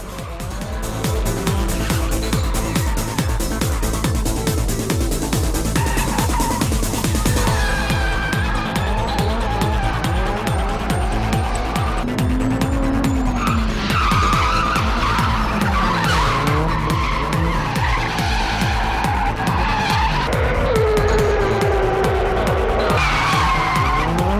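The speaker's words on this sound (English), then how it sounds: "I guess that makes the drivers want to show off their drifting even more." Cars drift at an underground street-racing meet, tires skidding and squealing loudly and continuously with sweeping high pitched wails over a steady engine roar.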